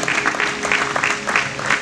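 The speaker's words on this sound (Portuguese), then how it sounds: "Vossos aplausos para encorajar e motivar os candidatos" Applause from a crowd at a ministry school ceremony, steady patter of many hands clapping throughout, with a faint voice underneath.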